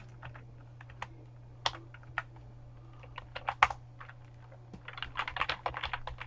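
Quick, uneven keystrokes on a computer keyboard while entering JavaScript code, in bursts with short pauses and a denser flurry of taps toward the end, close and clear over a faint steady hum.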